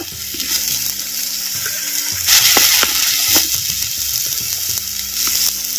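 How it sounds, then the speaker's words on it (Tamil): Small onion paste sautés in oil for a fried sardine gravy, loud and crackling, with scraping stir strokes and sharp spatters over the continuous sizzle. "சேர்த்த சின்ன வெங்காயம் விழுதுகளை அப்படியே எண்ணெயில் வதக்கு வதக்குன்னு வதக்குறான்"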